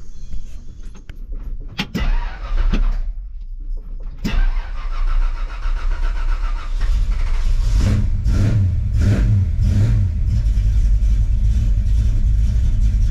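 A Ford F100 truck starts with a few clunks and door sounds, then its engine turns over, idles and revs up loudly, settling into a steady close rumble as it pulls away.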